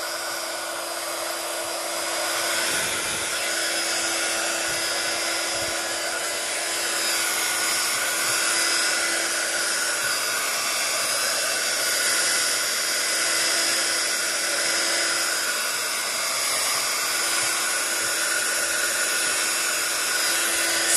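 A hair dryer blows steadily over a wet-on-wet watercolor seascape painted in pastel tones, a loud continuous close whir with a fixed whine running for the whole stretch.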